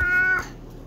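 A single cat meow, close and clear, lasting under half a second before fading to quiet.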